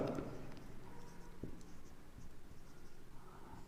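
Writing on a board during a Hindi grammar lesson makes faint, scratchy strokes and light taps in a quiet room, heard close and low, with no speech over it.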